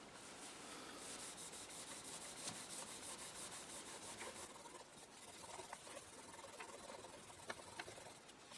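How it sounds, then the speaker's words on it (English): Steady rubbing and buffing with rubbing compound on the cabinet of a Chelsea Model 104 regenerative radio receiver, a continuous soft abrasive swish with a few faint clicks, close and fairly quiet, no talk. "I'm going to use a little bit of rubbing compound and try to kind of buff that up a little bit,"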